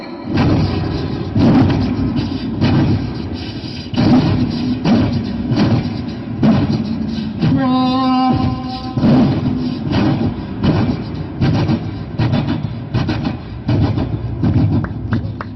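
A voice on a comedy stage imitates a train rushing past, with continuous rumbling and rhythmic clattering bursts, plus a brief horn-like tone midway, loud and close throughout.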